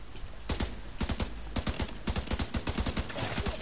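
Rapid gunfire rattles through a firefight in The Division 2, with close, crisp shots in quick clusters and short volleys running steadily from start to finish.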